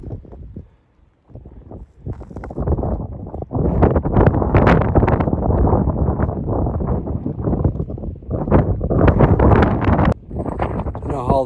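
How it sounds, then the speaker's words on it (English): Strong gusty wind roars over a snowy mountain pass on the Appalachian Trail, loud buffeting rumble on the microphone that rises and falls in waves, with a voice talking at times. "The wind is probably blowing 40 miles an hour."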